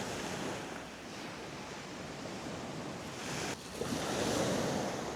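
Sea waves break and wash onto a beach at Holland-on-Sea, a steady broad roar of surf mixed with wind buffeting the microphone, growing a little louder toward the end, no one speaking.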